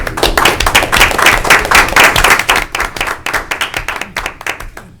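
A small group claps for students receiving an award at a school board of education meeting, with dense close handclaps that thin out into scattered individual claps toward the end.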